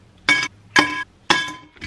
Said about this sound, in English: I got these new ice cubes, like an ice cube tray, and it's like the long one.